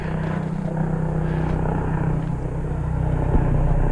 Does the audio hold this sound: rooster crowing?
no